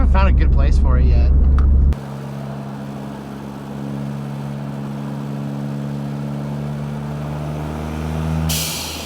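A Ford Fiesta ST's engine drones steadily under a driver's voice, then its blow-off valve releases a brief, airy whoosh near the end.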